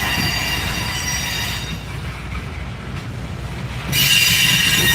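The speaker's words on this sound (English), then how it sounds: "there goes that flat car we talked about right there. The end of train 179 passing us" A Norfolk Southern freight train, NS179, rumbles steadily past close by, wheels grinding and squealing on the rails, with the noise swelling louder near the end as its last car, a flat car, passes.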